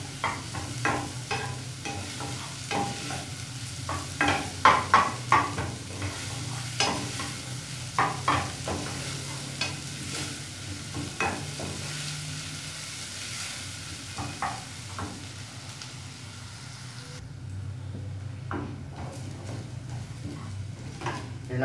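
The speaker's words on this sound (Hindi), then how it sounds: "और जब गोल्डन होना शुरू हो जाए इसको दरमियानी आंच पे लेके आना है। चम्मच को मुसलसल हिलाना है।" Onions frying in a pan over medium heat for a vegetable curry, sizzling steadily while a spoon stirs and scrapes continuously, with clear clinks and scrapes against the pan and no talking.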